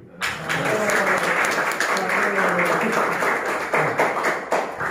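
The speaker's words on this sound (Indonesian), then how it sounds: "Karena tepuk tangannya keras, saya jadi semangat banget ini." Loud audience applause fills a hall at a film and culture talk, a dense sustained clapping that runs steadily throughout with a few heavier claps near the end.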